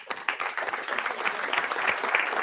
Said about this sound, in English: Maybe we can give Sören a little bit of applause.